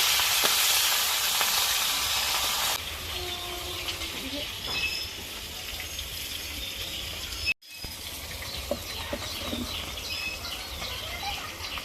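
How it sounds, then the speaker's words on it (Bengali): Pieces of rohu fish fry in a pan over a village-style fire, one side already browned before turning, with a loud steady hiss that drops to a softer sizzle, a brief dropout, then a continuing crackle with faint chirps nearby. "মাছ এক পিঠ ভাজা হয়ে গেছে, উল্টে আর একটু ভালো করে ভেজে নেবো।"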